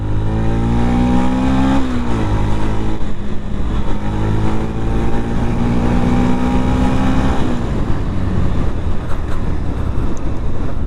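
A Yamaha FZ-X motorcycle engine revs up close, its pitch climbing then dropping back twice before settling into a rougher idle with wind buffeting the microphone.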